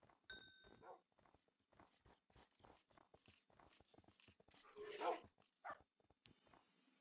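Minecraft wolves barking and yipping in a blocky game world, a scatter of short clipped barks mixed with quick footstep-like thuds and a couple of bright dings, moderately quiet.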